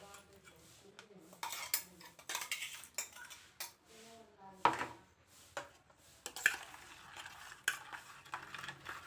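Ground cardamom and pepper stirred into a bowl of mango and melting jaggery, a close series of light clinks and scrapes of a spoon against the bowl in an irregular rhythm.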